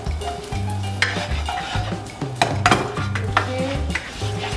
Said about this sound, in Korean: 후라이팬이 달궈지면 마늘을 볶으면 됩니다